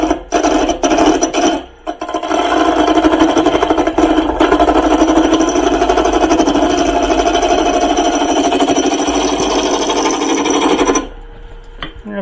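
A wood-turning lathe tool plunges into a spinning wooden blank, producing a loud, continuous rasping cut that holds steady for about nine seconds before stopping, with short scraping contacts just before it.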